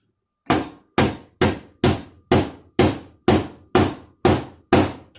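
Hammer taps on a Schwinn bicycle part being driven in so it seats straight, ten sharp, evenly spaced strikes about half a second apart, close and loud with a ringing metallic decay after each.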